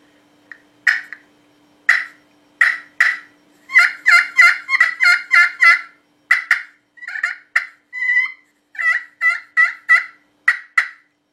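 Turkey friction call played with a Primos rounded-tip striker, a close series of sharp yelps and clucks in uneven bursts, loud and alone.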